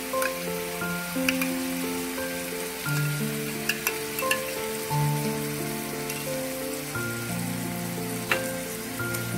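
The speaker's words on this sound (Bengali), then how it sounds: "এবার এর মধ্যে আমি দইটা দিয়ে দিচ্ছি" Yogurt poured into chicken that was browned over medium-high flame for a dahi korma, producing a steady, crackling sizzle like light rain, with sporadic pops and soft background music tones underneath.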